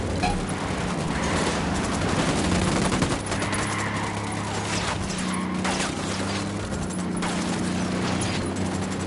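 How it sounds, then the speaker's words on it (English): Bursts of automatic gunfire from a video game shooter aimed at soldiers, dense and loud rattling that goes on without a break, mixed with crashes and mechanical clatter. "I'm shooting these fuckers"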